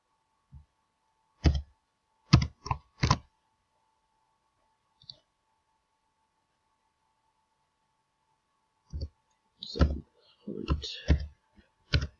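Mouse clicks on a computer in an Excel spreadsheet, sharp dry taps in small clusters (a few early, a denser run near the end) separated by long quiet gaps, close and alone.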